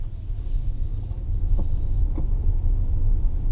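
A Tesla drives on Autopilot, giving a steady low road rumble and cabin hum with faint tyre and wind noise throughout and no voices.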